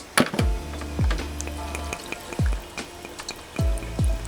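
Water glugs and splashes into a plastic container in repeated short pulses, each with a falling gurgle, against faint background hiss.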